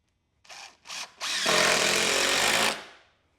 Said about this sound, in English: I'm going to bolt these two together.